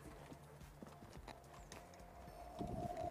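Hooves of a young horse clip-clop steadily on an arena surface during a dressage riding lesson, a close, regular beat with an occasional faint whinny and rising background noise near the end.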